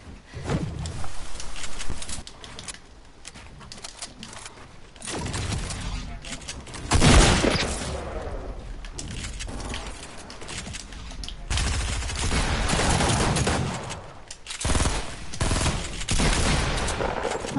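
Bursts of rapid video-game gunfire rattle in loud clustered volleys amid continuous chatter from players talking over the action.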